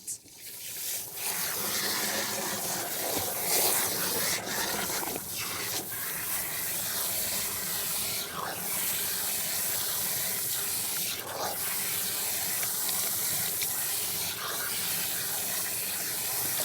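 Water from a salon shampoo bowl sprayer rinses shampoo from hair in a steady, close hiss with continuous splashing that never lets up.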